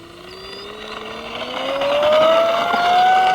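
A Durafly Me-163b RC model warbird's electric motor runs up to full throttle, a rising whine that climbs steadily in pitch and grows louder over a few seconds, close by and with no talk over it.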